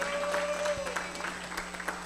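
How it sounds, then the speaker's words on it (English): Brief applause from a gala audience at a scholarship event, a moderate steady patter of many hands with a low hum beneath. "Let's give HANA International a round of applause."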